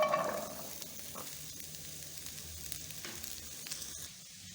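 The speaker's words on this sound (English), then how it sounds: "we're going to add this to a nice hot pan" Carrots and onion leaves sizzle and fry steadily in a hot pan, a continuous close crackling hiss with a louder burst at the start and occasional spoon taps; no voices.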